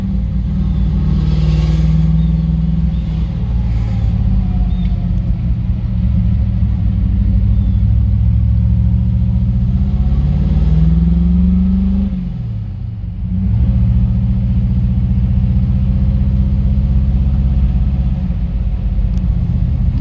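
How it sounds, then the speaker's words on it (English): A 1962 Corvette restomod with a fuel-injected ZZ6 engine idles steadily and loudly up close, its deep rumble rising briefly in a rev and dipping before settling back into an even, unbroken run. "Fuel injection system really gives it a unique sound."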